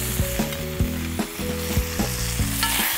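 Peeled prawns and shrimp sizzle with cockles in a hot pan, a steady crackling fry broken by a rhythmic series of clinks and scrapes as the contents are stirred, close and clear with no talking.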